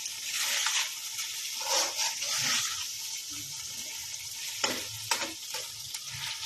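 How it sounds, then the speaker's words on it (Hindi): Macaroni is stirred in a pan, soft scraping and gentle sizzling strokes repeating irregularly over a faint steady hiss, quiet and close, with no voices. "हमने मैकरोनी जब डाली तो हमने इसको अच्छी तरीके से मिक्स कर लेना है।"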